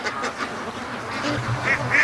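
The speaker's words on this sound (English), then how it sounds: "Oh, little ducks." Free-range ducks quack in a loose cluster nearby, a few harsher calls rising toward the end over a low rumble of outdoor background noise.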